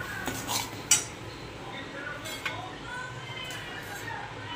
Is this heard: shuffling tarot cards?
no